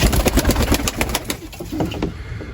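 Many tumbler pigeons coo in a low, throaty chorus close by inside a coop, with overlapping rolling calls and occasional rustles in an enclosed space.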